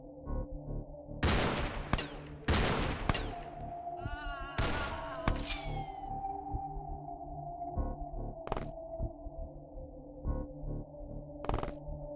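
Gunfire from the Chosen in the game OpenXcom X-Com Files: several sharp, loud bursts and shots near the start, followed by scattered single reports and electronic tones over a steady low hum.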